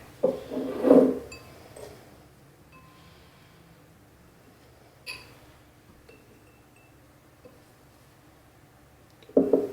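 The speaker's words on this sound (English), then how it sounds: "You chop up your plant matter and then you're going to add it to the jar." Chopped plant matter is dropped into a glass jar for a herbal tincture, giving a couple of soft clinks and rustles at the start, a faint tap midway, and another glassy knock at the end, with quiet pauses between.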